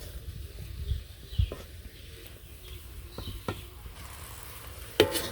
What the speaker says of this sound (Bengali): শাকগুলো নাড়া দিয়ে দিই আবার। তো এইভাবেই শাকগুলো ভেজে নেব।